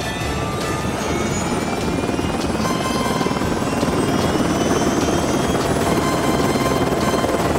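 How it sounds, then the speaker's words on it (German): A toy rescue helicopter's engines start and run steadily and loudly throughout, a dense rotor roar with a thrumming beat and whining turbine tones above it. "lässt die Triebwerke des Hubschraubers an"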